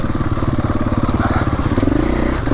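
A Triumph 450 Enduro race-spec motorcycle engine runs hard on a track in Barcelona, a loud, steady pulsing drone with a rising rev toward the end, close to the rider.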